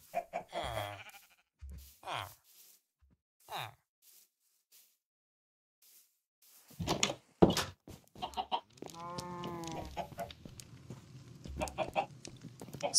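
Clucking chickens in a modded survival video game: short, choppy clucks and squawks in bursts, with a dense stretch of layered clucking near the end, heard over someone talking.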